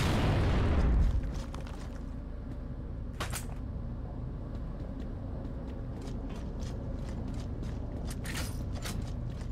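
A deep, heavy grenade explosion booms at the start in the video game Gears of War and quickly fades into a steady mechanical rumble, with a few sharp clicks and clatters scattered afterward.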